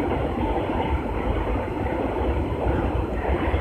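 A train at a railway station gives a steady, loud rumble of rolling wagons with faint clickety-clack, continuous and unbroken for the whole stretch with no voices.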